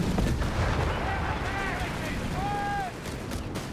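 Dive bomb strike slamming into tanks in Company of Heroes 3, a loud rumbling blast and crackle with rising whistling tones, heard close beneath continuous game noise.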